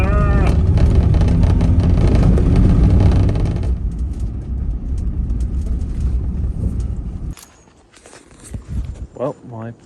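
A camper van races down a dirt road in Scotland with heavy, loud engine and road rumble for several seconds, then drops to a quieter drone and patchy sounds near the end.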